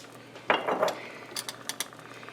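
Zucchini drops into a pot of thick cheese sauce for mac and cheese with bacon, giving a soft close splat followed by a few faint clinks of a utensil against the pot.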